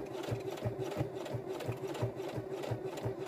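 A sewing machine stitches fabric at a slow, steady pace, its needle thumping in an even rhythm up close with a constant motor hum and no voices.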